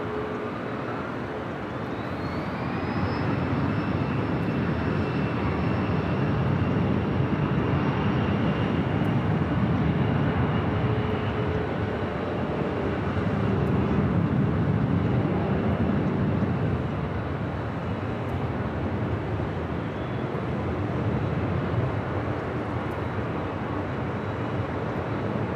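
A United Airlines Boeing 737 MAX 9 sits on runway 24 left at LAX, with a loud, sustained jet engine roar and a rising whine early on, alone without talk.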